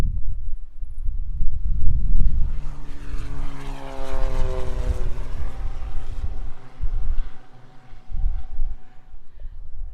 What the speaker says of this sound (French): Ah, l'avion décolle